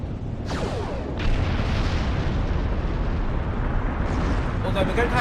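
Plasma torpedo explosion in a Star Trek video game, a heavy rumbling boom with whooshing sweeps that swells and sustains at full loudness, with speech mixed in beneath the blast.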